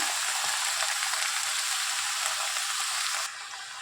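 Vegetables for a Bengali spinach (palong shak) dish sizzle steadily in hot oil, a dense continuous frying hiss up close that drops slightly in level near the end, with no voices.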